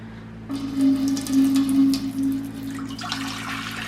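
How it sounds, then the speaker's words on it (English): Water pouring into a large brewing pot for homemade holiday beer, a steady splashing gush over a low constant hum, running for a couple of seconds before easing into a lighter trickle. "now it's time to pour the water into our massive pot here"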